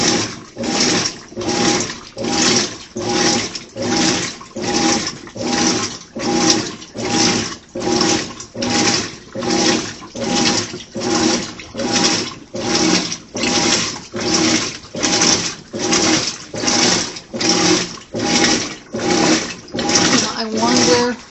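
A Maytag Bravos top-load washing machine runs its wash cycle, churning in a steady, loud rhythmic pulse that repeats about every three quarters of a second with no break, close by.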